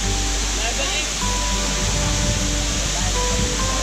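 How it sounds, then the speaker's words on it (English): Aguinid Falls in Samboan, Cebu, a multi-level waterfall where water pours down the final tier: loud, steady, broadband roaring rush that fills the space for several seconds without a break. "This is another beautiful waterfall."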